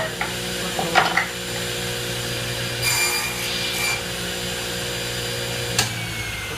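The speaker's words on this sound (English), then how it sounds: "So I'll cut it on both sides, and I'm just gonna run it through the jig" A saw cuts a wooden tenon run through a homemade tenon jig, a steady motor drone with rough rasping bursts as the blade bites the wood.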